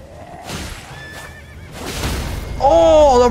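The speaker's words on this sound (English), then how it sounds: "a random dude knocked me off my horse" A horse in the video game Elden Ring gives a loud, close whinny near the end, following softer rustling game sounds and faint hoof-like clatter.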